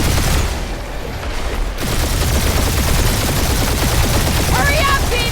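Gunfire in the Guardians of the Galaxy video game, dense rapid bursts of shots and blasts running almost nonstop, loud and close, with a brief lull near the start and sharp chirping effects toward the end.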